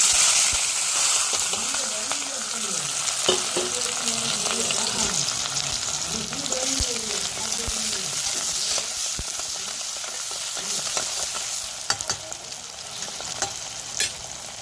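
Corn flour batter fries in hot oil with a loud, bubbling sizzle and wet stirring sounds throughout, while a voice is briefly heard in the background early on.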